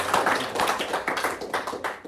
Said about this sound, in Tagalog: isang palakpak na sa ating Diyos